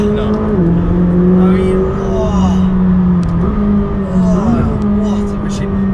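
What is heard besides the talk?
car accelerating out of a turn in first gear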